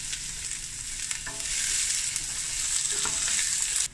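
Chopped onion drops into hot mustard oil already crackling with mustard seeds and cumin, and a steady sizzle swells sharply about a third of the way in, then holds loud and bright until cutting off near the end.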